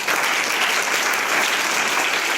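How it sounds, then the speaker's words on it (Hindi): Schoolchildren in a classroom clapping loudly together, a thick, unbroken roar of applause that stays at full strength from start to finish. "जोरदार ताली बजाएं आप सभी"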